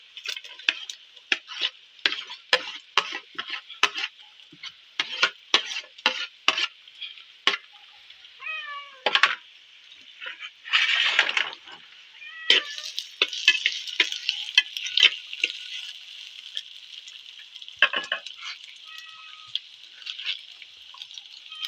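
Onions and green chillies frying in hot oil: bright, close crackles and spitting pops burst in rapid clusters with brief quieter gaps, lasting throughout. No talking.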